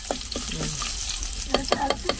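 Mustard seeds splutter in hot oil as a spoon stirs the pan, with quick scattered pops and crackles over a steady sizzle, close and moderately loud.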